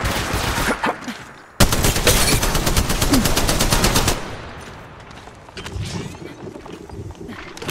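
Rapid automatic gunfire in the Olympus map of the Apex Legends Mobile battle royale, loud and close in sustained bursts, with a brief pause and then quieter scattered shots and movement sounds after.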